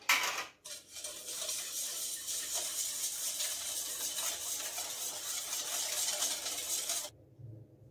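Sweet batter for carnival frixuelos being stirred in a bowl, a continuous close scraping and clinking of utensil against the bowl that stops abruptly near the end.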